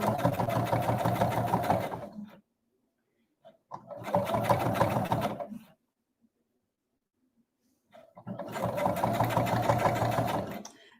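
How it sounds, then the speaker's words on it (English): A sewing machine stitches a quarter-inch seam on quilt binding in three steady bursts of rapid whirring, each about two seconds long, separated by brief pauses. "I'm just going to bring that around, just sewing a 1/4 inch"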